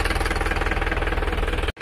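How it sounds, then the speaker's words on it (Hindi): A tractor arriving in a farm field to plough rumbles loud and close, its engine throbbing in a fast, steady, pulsing beat before cutting off abruptly at the end. "आ गया है अज्जू भैया ट्रैक्टर लेके अपने खेत में"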